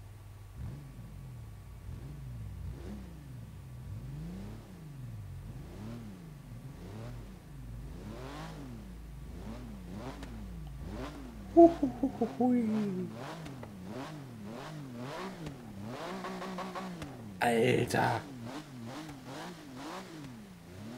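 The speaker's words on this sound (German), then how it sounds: "jetzt mal kurz reinhören, wie der Wagen sich so anhört." The engine of an RWB Porsche of nearly 1000 hp in Forza Horizon 3 revs up and down in repeated rising and falling sweeps, quite faint, while a man makes short vocal sounds over it.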